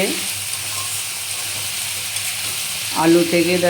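Potatoes and onions fry in oil in a pan, a steady low sizzle close by, with a brief voice-like tonal sound near the end.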